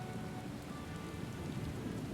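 Steady rain falling in the video game Final Fantasy XIV, a dense, even wash of rain on surfaces, moderately quiet and continuous without distinct thunder.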